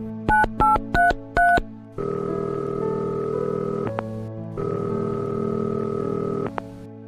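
Phone call going unanswered: a short burst of rapid dial beeps, then two long ringback tones with a pause between them, loud and close with no voices.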